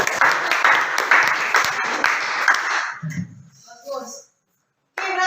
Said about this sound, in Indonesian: Coba tepuk tangan dulu untuk kelompok.